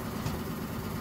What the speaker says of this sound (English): We put in a new exhaust fan over the last few days, so we can eliminate this dust.